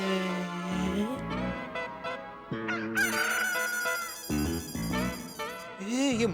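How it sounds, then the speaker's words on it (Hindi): A rooster's crow plays as an electronic ringtone, repeated with musical tones mixed in, loud and close with a slightly synthetic quality. "ये मुर्गे की आवाज तो इस फोन में से आ रही है।"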